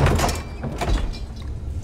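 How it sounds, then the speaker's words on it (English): A door is opened in a played TV drama episode: a few heavy wooden thunks and rattles, fairly loud and close, with no talk over it. "Who's trying to open the door?"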